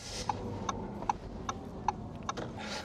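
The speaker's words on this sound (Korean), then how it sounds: "깜빡이 소리는 좀 크다." Turn signal ticking inside an Audi RS e-tron GT, a loud, crisp click repeating about every 0.4 seconds in a steady rhythm against a quiet cabin hum.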